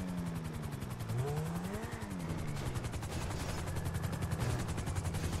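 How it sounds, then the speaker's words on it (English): Rapid rotor chop of a helicopter in Grand Theft Auto V beats steadily throughout, with engine whine shifting in pitch and bursts of gunfire mixed in the game audio. "thank you for the helicopter ride"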